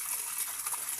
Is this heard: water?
yes